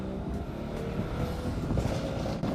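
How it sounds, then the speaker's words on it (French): Engine and exhaust of a tuned BMW 335i, built to around 500 hp, producing a continuous deep, throaty rumble at close range for a couple of seconds. "cette voiture a un super son et est très amusante à conduire"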